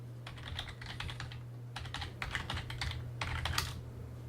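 Quick, steady keystrokes on a computer keyboard as a login and password are entered, coming in short bursts with brief pauses, close and fairly quiet over a low steady hum.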